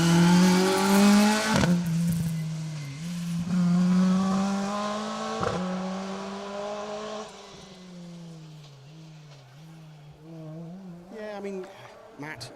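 Brad Cole's blue Mark II rally car, car 31, drives an asphalt rally stage, its engine rising and falling through gear changes as it passes and fades, while commentators talk throughout.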